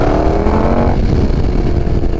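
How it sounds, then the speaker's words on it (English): A motorcycle engine runs loud and close, a dense droning roar with a rising rev that drops to a rough, busy rumble midway, with no voices. "The bike just became louder."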